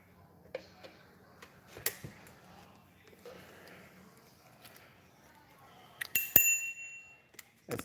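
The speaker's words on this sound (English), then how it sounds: "That's the bell." A bell rings once near the end, a bright, brief ding with a ringing tone that fades quickly after some scattered clatter and handling noises.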